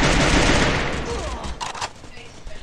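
Rapid bursts of video game gunfire, dense and loud at first, then thinning into scattered shots with faint talk underneath.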